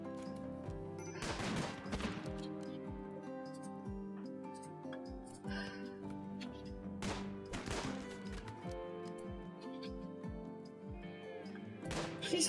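Laser pistol and shotgun gunfire in the RimWorld video game: sharp bursts and rapid volleys of shots crack out repeatedly over a faint musical backdrop, quiet overall with sporadic clusters of impacts.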